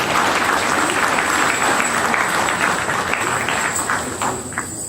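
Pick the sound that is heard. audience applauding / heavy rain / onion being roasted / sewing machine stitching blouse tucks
audience applauding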